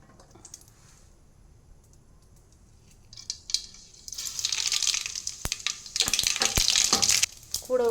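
Crackling, sputtering sizzle of mustard seeds hitting hot oil for tomato rice, quiet at first then building into a dense, popping spatter that continues steadily to the end.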